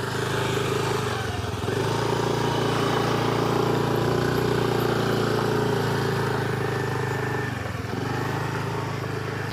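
A Honda Activa scooter engine drones loudly and continuously while riding a rough road, the steady hum dipping briefly a couple of times but never stopping, heard close with no clear talk.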